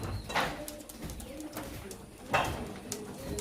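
Pigeons in a loft of breeding pairs, including Saharanpuri and teddy breeds, coo in repeated low throaty rounds nearby, with a couple of louder swells and some faint background noise.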